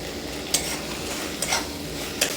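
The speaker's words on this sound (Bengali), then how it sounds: "সয়াবিনের সাথে মশলাটা ভালোভাবে কষিয়ে নিচ্ছি।" Soybean chunks frying with a spice masala in a pan, a constant close sizzle broken by three sharp scrapes of a stirring spoon, no voices.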